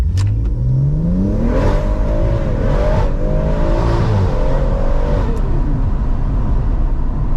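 A BMW M140i engine revs hard from a standing start, pitch climbing through several gear shifts, loud and close throughout.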